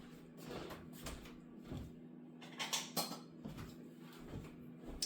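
A whisk is pulled from a kitchen drawer, giving several faint rattles, clinks and sliding thumps of utensils shifting, close but quiet, with no talking.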